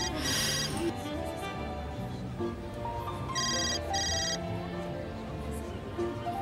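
A phone ringtone sounds in repeated short bursts, fairly faint, over a low background murmur, and nobody answers.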